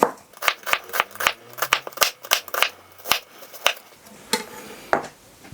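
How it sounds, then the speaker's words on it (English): A knife slices half an onion finely on a cutting board, with a quick run of sharp, crisp chops falling in an uneven rhythm, loud and close, and no voices. "I'm going to use half an onion for this dish, so half goes away like that, and then I'm just going to finely slice it like so"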